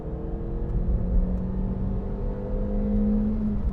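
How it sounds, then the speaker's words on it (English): A 2021 Suzuki Ignis engine drones steadily and climbs slowly in pitch toward the red line while the car overtakes a cyclist on an open road, with a continuous boomy rumble heard from inside the car. "the engine is a bit boomy as you get towards the red line"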